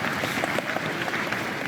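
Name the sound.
crowd applauding rescuers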